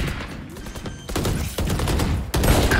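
Rapid gunfire in the video game Valorant crackles in dense, loud bursts throughout, with a brief gap before a final volley of shots.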